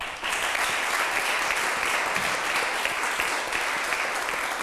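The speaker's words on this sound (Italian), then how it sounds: "chiedo adesso un applauso ai nostri ospiti in studio" A television studio audience gives sustained, steady applause for the guests, a dense even wash of many hands clapping throughout with no voices over it.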